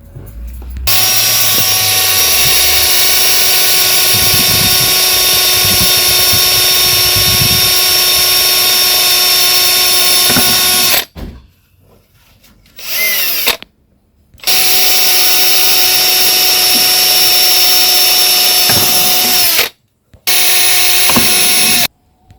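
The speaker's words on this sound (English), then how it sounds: "What I'm doing is to bore some holes at the top of the container to have the worms get some ventilation." A power drill bores ventilation holes in the top of a plastic worm container, a loud steady high whine held for long stretches, broken by a few short pauses.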